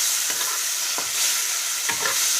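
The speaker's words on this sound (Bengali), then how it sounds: "আর এই যখন পনিরগুলো ভাজছি" Paneer pieces frying in oil that has grown very hot, giving a steady close sizzle with a few brief stirring scrapes of a spatula.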